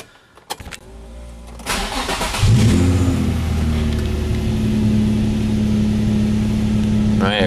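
A Nissan 350Z starts up on a test drive, a few clicks and a brief crank before the engine catches and settles into a loud, steady, close idle hum that continues to the end.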